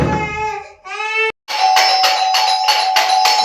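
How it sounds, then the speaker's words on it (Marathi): A doorbell rings late at night, around 11:30, at a house's front door: a short wavering, cry-like tone, then a brief gap, then six or so loud, evenly spaced chimes close by. "11:30 वाजलेत आणि अचानकच बेल वाजते."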